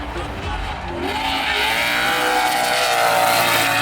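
An off-road race truck accelerating during the San Felipe 250 desert race, a loud rising engine roar that builds steadily, with a voice talking over it.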